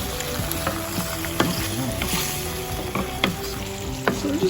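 Cherry tomatoes and chili flakes sizzle steadily in a hot pan, a close, continuous frying crackle with scattered sharper pops and stirring scrapes throughout.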